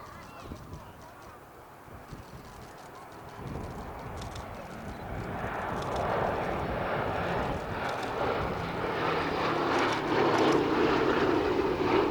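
A propeller aircraft engine at an air show drones and swells steadily louder, the roar building to a strong, sustained pitch as the plane powers up and dives away.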